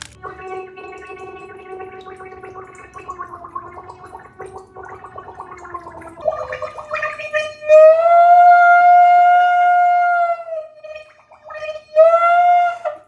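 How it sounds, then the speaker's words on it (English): A trumpet played underwater gives a wavering, bubbly horn-like tone, first a warbling murmur, then long sustained notes that swell loud with gurgling texture. "what would it sound like if we put a trumpet underwater?"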